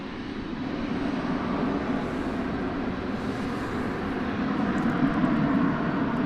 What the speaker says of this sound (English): This is a 767, flight 751. It's going to Louisville, as many of the UPS planes do from here.